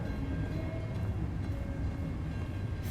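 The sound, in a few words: train passing in an indie video game demo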